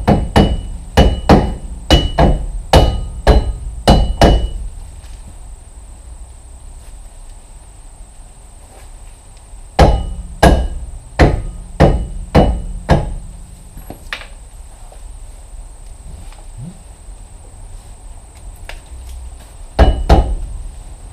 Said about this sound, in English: So I'll just tap it on with a soft hammer.